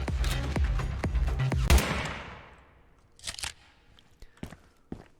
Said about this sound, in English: And then he shoots bullets occasionally